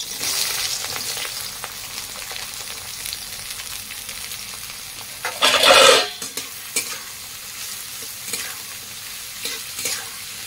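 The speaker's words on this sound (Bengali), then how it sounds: "তোমার তেলটা গরম হয়ে এসেছে, এখন আমি এই পেঁয়াজগুলি সব ছেড়ে দেবো" Sliced onions hit hot oil in a wok-like kadai with a sudden loud sizzling burst, followed by stirring scrapes and a steady frying hiss, close and continuous.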